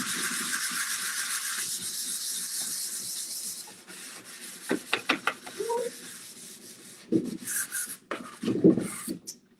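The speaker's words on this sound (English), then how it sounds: "You just want to scuff it up, toughen it up, like I said, so your paint and primer will be able to stick to it." Varnish is scuffed off a wooden bedside table by hand before painting, heard as steady close rubbing and sanding for several seconds, followed by scattered knocks and scrapes while a voice talks briefly.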